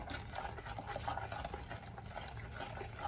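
Brownie batter with vanilla extract being stirred in a bowl, a faint, steady wet swishing and scraping that continues without pause and without talk.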